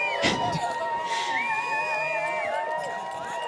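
A crowd cheers and whoops at a freeride ski competition at Kicking Horse in Golden, B.C., as the last skier in the men's division comes down. The cheering is distant, sustained, and mixed with whistles and shouts.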